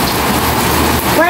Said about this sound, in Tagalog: Pero ngayon, lumalakas tong ulan.